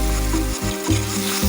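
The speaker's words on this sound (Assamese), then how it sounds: "এয়া কোমোৰা আৰু আলু দি দিলোঁ। এতিয়া ভালদৰে লৰাই দিম।" Pumpkin and potatoes sizzle with duck meat in a hot pan, a loud close hiss of frying broken by the scrape and shuffle of stirring.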